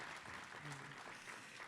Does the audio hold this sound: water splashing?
no